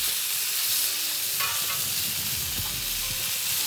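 A steak searing in a hot pan just after being flipped, giving a steady, bright sizzle with a few soft scrapes and clicks, heard alone and close.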